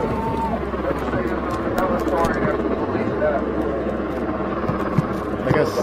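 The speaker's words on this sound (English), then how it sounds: "but that helicopter's way too loud." Helicopter over a street protest in Minneapolis, a steady loud drone filling the scene beneath crowd noise and distant voices throughout.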